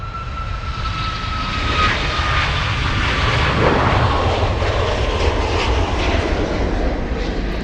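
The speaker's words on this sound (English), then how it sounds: "We have... let's see. TUI taking off." TUI jet airliner taking off at Munich airport, its engines producing a loud, steady roar with a broad rumbling hiss that swells slightly and holds throughout.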